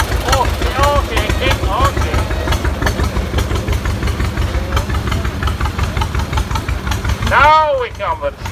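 Steam engines rolling past in a parade at the Rollag steam threshers' reunion, a steady low chugging and rumbling engine drone through the whole stretch, with a whistle-like rising tone near the end and a voice talking over it.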